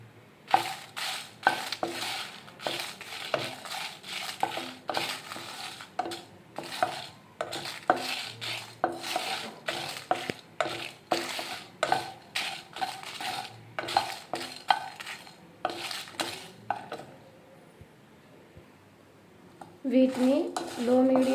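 Coriander seeds, cumin and dried chillies are stirred in a pan over low-medium heat, giving repeated scraping and rattling strokes in a brisk irregular rhythm, close and fairly loud, with a short pause near the end.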